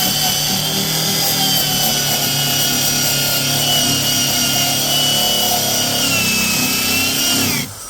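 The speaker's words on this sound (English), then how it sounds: "We're going to remove the rust with our wire wheel" A wire wheel on a power tool strips rust from the door of a 2018 Ford Escape, a loud, continuous high-pitched whirring grind that holds steady for several seconds before spinning down at the end.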